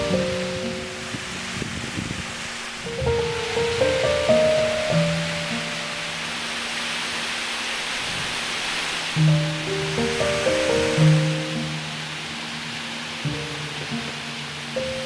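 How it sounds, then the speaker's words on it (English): Steady broadband rush of a roadside mountain waterfall in the Italian Alps near Gran Paradiso, continuous and moderately loud throughout, with tonal hums and brief background sounds drifting over the water noise. "We just found this amazing waterfall on the side of the road"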